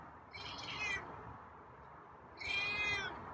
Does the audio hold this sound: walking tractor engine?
no